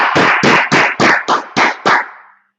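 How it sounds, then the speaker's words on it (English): Eight sharp bursts of group clapping ring out in an even, quick rhythm, loud and close, with the last clap trailing off into silence. "So, clap it up."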